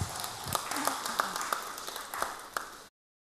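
A small audience at a religious gathering gives a round of applause, a light scattered clapping with distinct individual claps, fairly close, lasting about three seconds before stopping abruptly.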